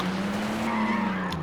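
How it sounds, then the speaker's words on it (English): Car wheelspinning and sliding across the road in the video game Gear.Club Unlimited 2, with a steady tyre squeal over engine drone, loud and close, lasting the whole short moment. "it just sort of wheel spins itself and turns and slides all over the road then."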